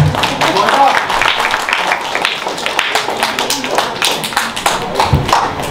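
Clapping from the audience at a film press meet for the movie Abhimanyu s/o Kashinath: dense, loud applause with sharp individual claps runs throughout, with voices mixed in.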